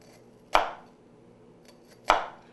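Two sharp knife strokes chop down through an onion onto a cutting board, each a crisp close thunk with a short decaying tail, spaced about a second and a half apart in an otherwise quiet kitchen.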